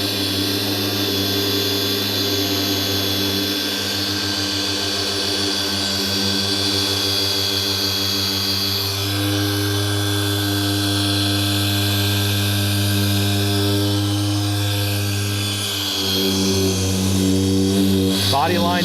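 Ryobi 18V dual action polisher running on car paint, a continuous close drone and whir with a slight dip in pitch midway as it slows against the surface, with someone talking over it.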